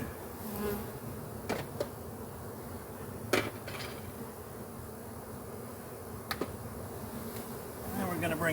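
Honey bees buzz steadily around an open hive box, a continuous close drone broken by a few sharp knocks and taps against the wood.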